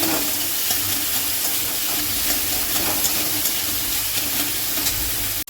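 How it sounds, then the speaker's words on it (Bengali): Boiled potatoes frying in a pan with spices, making a steady, loud, dense sizzle that continues without a break and ends abruptly. "ভালো করে সেটা ভালো করে ভেজে নিতে হবে আলুটা"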